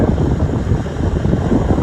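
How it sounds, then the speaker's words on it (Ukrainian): Heavy wind buffets the microphone in a constant low rumble, loud and close, with no other sounds coming through. "знаю, вітер дує, як мене буде чуть"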